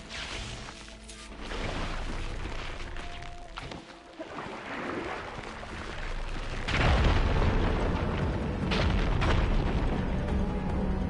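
Firegleam ignited to blast rubble in Horizon Forbidden West, a rumbling explosion swelling into a loud, sustained crashing roar of debris that holds steady through the end.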